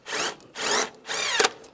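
A power drill driving a sheet metal screw while mounting a fog light kit part on a 2014-2019 Toyota Corolla, three whirring bursts of rising pitch, close and clear, the last ending in a brief sharper grind.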